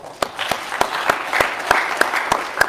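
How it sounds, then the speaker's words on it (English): Small audience at a school senior speech event gives a round of applause, sparse sharp claps with a few individual strikes standing out in a loose rhythm over a light clapping bed, fairly close. "Let's give them one more round of applause."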